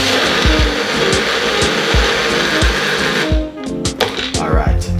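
Kitchen blender whirring loudly and steadily, its motor rising and falling as the contents churn, then slowing and stopping near the end, with a person talking over it.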